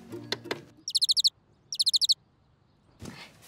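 Two quick bursts of high, rapid bird chirps, five or six notes each, with a soft rustle at the end.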